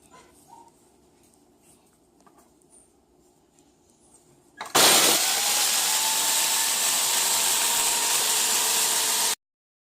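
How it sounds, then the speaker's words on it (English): Graham cracker cookies are ground into crumbs by a loud, steady whirring grinder that starts abruptly after a quiet stretch and runs on until a sudden stop. "I'm going to grind it down, and then I'm going to put the other pack once this is totally"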